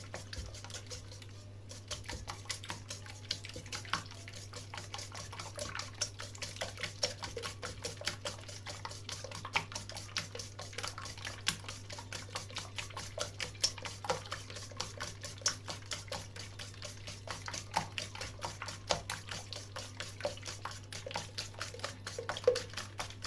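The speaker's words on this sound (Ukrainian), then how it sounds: "І тепер ми це все вимішуємо. Беремо вінчик" A whisk beating pancake batter of milk and boiling water in a bowl, a quiet, fast, steady ticking rhythm of wire against the bowl that runs continuously with a low hum underneath.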